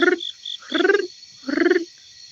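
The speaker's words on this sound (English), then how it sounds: "I can hear some frog calls." Frogs call at night in three separate croaking bursts with short gaps between them, close and fairly loud, while a faint insect chirp sounds in the background.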